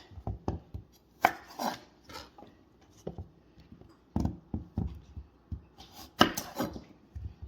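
A knife trims potatoes on a cutting board, giving quiet, irregular taps and thuds with short pauses, close up and with no other sounds.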